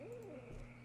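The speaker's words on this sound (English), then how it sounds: "I hear the owl. I hear it now." A faint, soft owl hoot drifts near a graveyard in the video game Kentucky Route Zero, one brief low call over quiet ambient background.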